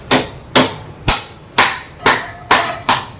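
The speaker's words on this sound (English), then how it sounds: "tap it again so that the axle is inside" Sharp, loud hammer taps driving a motorcycle axle into place while fitting a tyre hugger, seven evenly spaced metallic strikes up close, about two per second, with no talk.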